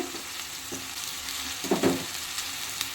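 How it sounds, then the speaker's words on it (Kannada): Ginger garlic paste dropped into hot oil in a pan for chicken gravy, with a steady close sizzle and a brief sharper spatter as it hits and gets stirred. "ಇವಾಗ ನೆಕ್ಸ್ಟು ನಾನು ಶುಂಠಿ ಬೆಳ್ಳುಳ್ಳಿ ಪೇಸ್ಟ್ ಹಾಕ್ತಾಯಿದ್ದೀನಿ."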